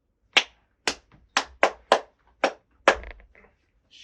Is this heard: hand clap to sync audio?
yes